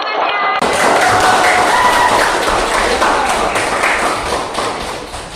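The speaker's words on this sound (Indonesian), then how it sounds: "kasih tepuk tangannya" A classroom of students claps for a classmate after a lesson on economics, a dense, loud burst of applause that starts abruptly and holds steady for several seconds before tapering slightly.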